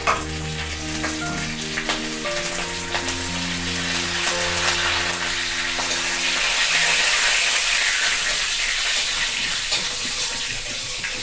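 Tempering spices for mor kuzhambu sizzle and crackle in hot oil, a steady bright hiss that continues throughout at close range.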